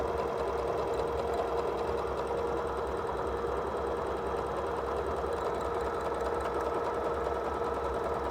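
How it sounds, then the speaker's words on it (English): A sewing machine runs a steady, fast mechanical hum and clatter as it sews a decorative satin stitch across a quilted fabric postcard, continuous and close with no talking. "now I'm going to add my last color of thread, which will be more of a decorative satin stitch"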